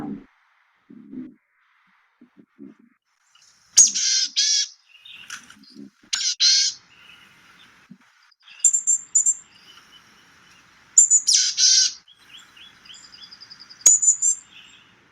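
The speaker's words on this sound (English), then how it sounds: "And now here is the boreal chickadee. Now you're going to hear it. It's more of a raspy, laconic almost sound." Several short, raspy bird calls of a boreal chickadee sound in scattered bursts against quiet, with brief high chips between them, close and clear.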